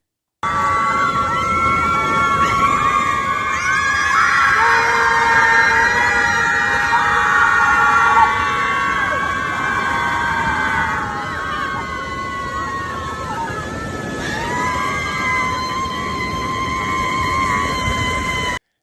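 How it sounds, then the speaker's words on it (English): A crowd of women screams together at Lake Michigan, loud sustained wailing voices rising and falling in long overlapping howls that sound almost like a siren. "A group of liberal white women screaming at Lake Michigan to rage against the election results."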